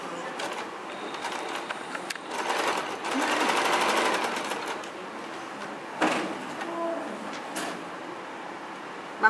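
A sewing machine stitches fabric for a bow, whirring steadily at moderate volume with a louder run in the middle and a few clicks and stops.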